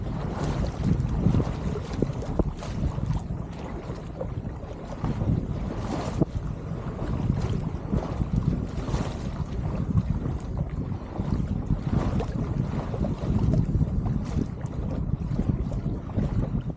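Sailboat fitted with new custom sails underway on a mountain lake in variable, gusty wind, with steady broadband wind and water rush around the hull and bursts of microphone wind buffeting, no talking.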